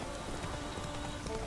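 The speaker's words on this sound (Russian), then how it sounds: "дождь. Дождь неинтересный." Rain in The Witcher 3: Wild Hunt falls as a steady, soft hiss of drops pattering on surfaces, even and unbroken for a brief moment.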